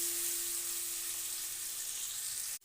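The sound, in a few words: tengra fish sizzling as it is mixed and stirred in oil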